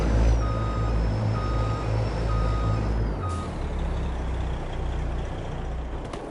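A Kubota skid steer in Farming Simulator 22 sounds a steady series of loud, evenly spaced reversing beeps over its engine hum, the beeps stopping partway as the engine drones on.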